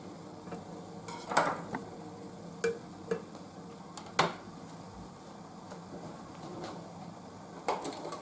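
Apple pieces are stirred in boiling water in a pot, with several sharp clinks and scrapes of a utensil against the metal over a soft bubbling hiss.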